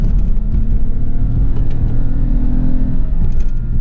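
A deep, steady engine drone from inside a moving 2006 Mazda 6 with an intake box mod, loud and rumbling with slight swells in revs.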